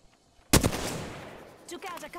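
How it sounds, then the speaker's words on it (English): Gunfire in Apex Legends bringing down a cargo bot: one sharp, loud burst hits suddenly, then rings out in a long decaying rumble, with lighter crackling shots following near the end. "I'm gonna shoot down that cargo bot."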